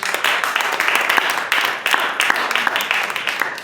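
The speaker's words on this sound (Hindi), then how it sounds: "क्या आप ताली दे सकते हैं?" A church congregation claps together during a worship service, a fairly dense, moderately loud wash of hand claps with some rhythmic pulses, held steady for several seconds.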